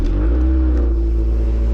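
Engine of a Scion tC cranking over on the starter, energised by a power probe: a loud, steady low rumble with a droning whine, continuous and close, with no talking.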